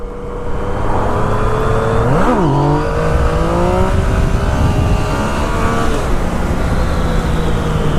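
Loud, close engine roar of a Yamaha FZ-09 850 cc street motorcycle pulling hard in second gear, the pitch rising, briefly dipping, then holding in a sustained drone.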